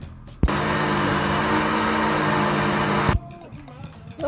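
A blender whirs steadily for about three seconds while blending beans with water for Nigerian moimoi. It starts and stops abruptly, loud and close, with quiet kitchen sounds before and after.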